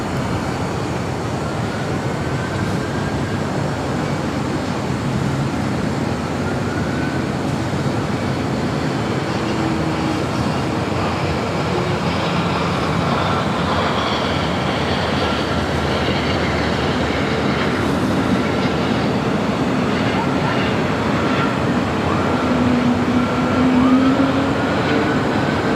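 An airliner taxis along taxiway Bravo toward runway 25 right at LAX, a steady, loud broadband rumble that holds for the whole stretch with no talk.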